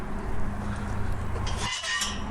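Startled wood pigeons burst up behind a gatehouse on country-house grounds, giving a short, fairly close flurry of flapping wings over steady outdoor background noise.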